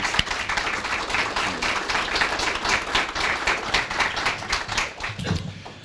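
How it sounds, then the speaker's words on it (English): Audience applause at a Memorial Day essay contest ceremony for veterans in Medina County, a steady mid-distance round of clapping lasting throughout and thinning slightly at the end. "Let's give them a round of applause, please."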